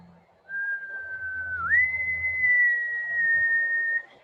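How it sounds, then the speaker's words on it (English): A person whistles a steady, clear tone that slides up partway through and then holds, loud and close, alone over a faint background hum. "I can even make notes on my own as I whistle,"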